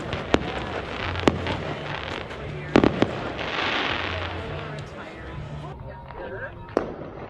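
Fireworks explode at dusk at a bus enthusiasts' gathering, with several sharp, loud cracks and bangs scattered irregularly over crowd noise and a rushing hiss, while people talk.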